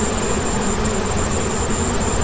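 Honeybees humming at a hive in cold late-afternoon air, a dense, even buzz with a thin high whine running over it, close and constant throughout with no voices.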